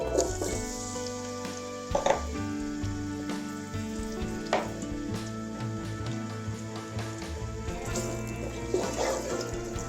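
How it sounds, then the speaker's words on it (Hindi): Onions frying in cooking oil in a pan while making mixed vegetable pulao, a steady dense sizzle with occasional sharper crackles and clinks, close and continuous with no talking. "अब हम पैन को ऑयल डालते हैं, पैन में कुकिंग ऑयल है। प्याज ऐड करते हैं।"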